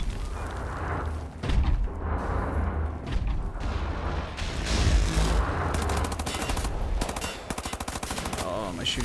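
Rapid machine-gun fire rattles through the video game Wolfenstein: The New Order, dense bursts of shots and booming impacts, loud and close, with a clear stuttering volley toward the end.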